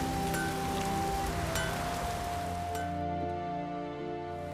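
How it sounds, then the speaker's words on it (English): Rain falls in The Witcher 3: Wild Hunt as a steady, even hiss, with a low sustained tone humming beneath it. "Hey, I love the rain."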